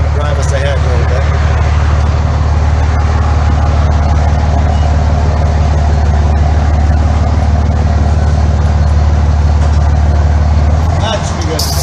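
A vehicle rolls forward on a Wisconsin mowing job, its engine giving a loud, steady low drone close by throughout.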